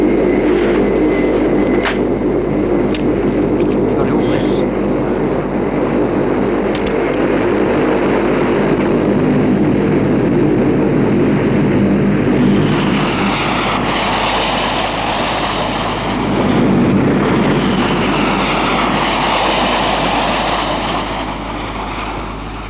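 A military aircraft taxis to the main runway in a Korean War setting, its engine droning loud and steady throughout with a rising whine midway.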